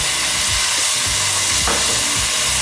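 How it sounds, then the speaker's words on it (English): White wine hits a hot pan coated with burnt bits from Moroccan seven-spice pork and vegetables, producing a loud, continuous hissing sizzle close by with no talking. "add just a little bit of white wine in here, kind of deglaze the pan a little bit"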